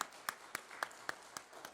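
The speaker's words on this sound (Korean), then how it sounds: "박수하시겠습니다" At a Wednesday new-year special dawn prayer service in a church, a few people clap in a slow, evenly spaced rhythm, about seven soft, distant claps against a quiet room.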